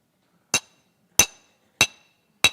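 Glass is struck four times at an even, unhurried pace at an academic conference, each a sharp, bright ring that decays quickly into silence, close and alone.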